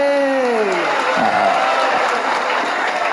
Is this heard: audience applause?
yes